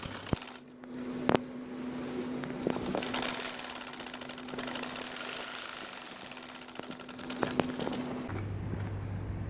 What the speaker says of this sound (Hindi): कच्ची इसके साथ इस तरह लगा के यहाँ से सिलाई करूँगी